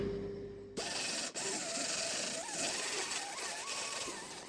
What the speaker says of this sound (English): Now I'll grind this off through here carefully with the air sander on it.